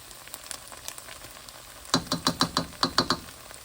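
Onions sizzling in a hot pan while being turned, a quiet fry at first, then a run of about eight sharp, rhythmic scraping stirs over the crackle, close and fairly loud.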